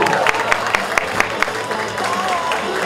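An audience at a cosplay parade claps for a contestant, a fairly close burst of scattered, uneven handclaps with a few sharper slaps standing out over a light crowd murmur.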